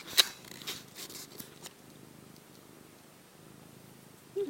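A white cat purrs softly and close, a low steady rumbling with a faint rhythmic pulse, in an otherwise quiet room with a couple of small clicks.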